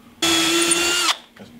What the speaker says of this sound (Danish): Vi bor bare hele vejen igennem